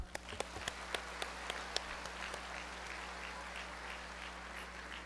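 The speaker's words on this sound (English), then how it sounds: "Guys, our parents deserve a round of applause." Applause at a senior high school graduation ceremony in Pasay City, opening with a few distinct sharp claps that blend into a steady, moderate wash of many hands clapping over a constant background hum.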